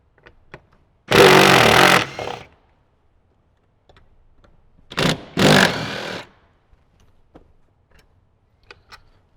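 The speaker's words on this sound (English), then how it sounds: "Let's go ahead and remove the 2 bolts from the passenger seat" Power tool or impact driver backing out passenger seat bolts inside a 2018-2023 Jeep JL, two loud whirring bursts, the first about a second long and the second a double burst, with faint ticks and clicks between them and no talk.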